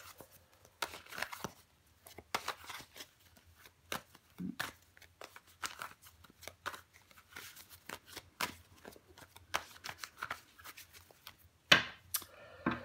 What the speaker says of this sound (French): Je vais recouvrir des cartes pour vous les balances.